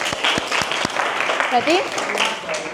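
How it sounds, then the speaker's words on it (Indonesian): Classroom students clapping for one another during a teacher-training session, a brief burst of scattered claps with a voice speaking over it. "tepuk tangan buat kalian semua"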